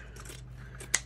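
Scissors cutting through ribbon strips for a bow, giving a short soft snip that ends in one sharp close click, quiet and alone.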